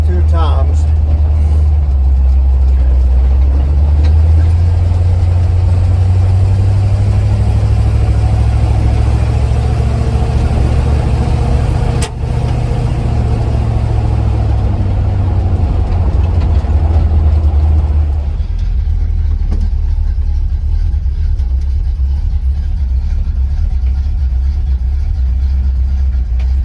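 Engine of a 1976 Chevy Squarebody truck with a freshly replaced transmission pulls away, its loud steady drone climbing in pitch and dropping as it shifts gears, with a voice talking over it from time to time.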